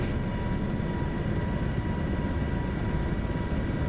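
A helicopter in a flight game hums in a continuous, steady rotor-and-engine roar, loud and unbroken throughout, with no voices over it.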